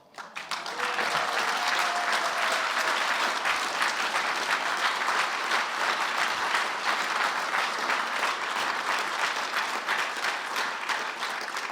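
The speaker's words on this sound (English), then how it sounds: "you guys are all clapping" Steady, dense applause from a gala audience at an awards dinner, building quickly after a brief opening and holding strong throughout, with a faint voice near the start.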